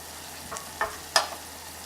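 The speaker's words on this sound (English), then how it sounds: "And stir it all together." Onions and lemongrass being stirred in a pan, a faint background sizzle with a few short, sharp scrapes of a utensil, close by and otherwise quiet.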